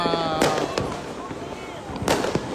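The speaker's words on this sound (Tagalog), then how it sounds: "may mga fireworks doon sa dulo namin" New Year's Eve fireworks in Laguna, Philippines, pop and boom in the distance, a few scattered blasts with crackling between, while people talk nearby.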